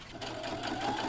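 A sewing machine stitching corduroy for a bomber jacket, the fabric coming from a thrifted curtain. It gives a short, steady, close whirring run with a rapid needle patter and no talking.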